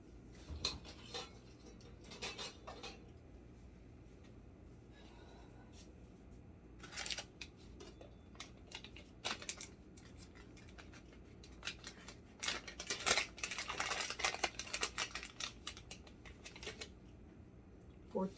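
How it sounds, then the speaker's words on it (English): Whole nutmeg being hand-grated while making molasses cookies, a faint series of quick scraping rasps in irregular bursts, denser near the end, over a quiet kitchen background. "I don't have ground nutmeg. I grind my own."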